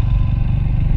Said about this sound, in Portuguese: A moto fica doidinha na areia dessa aqui